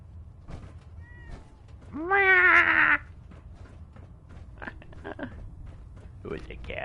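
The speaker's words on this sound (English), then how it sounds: "Oh, there's a cat." A cat in the video game Fallout 4 lets out one loud, drawn-out meow lasting about a second, with softer game sounds and faint noises before and after it.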